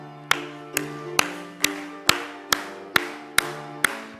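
A church congregation claps a steady beat during a hymn, with sharp regular claps about every half second over a sustained held chord, fairly close and alone without talk.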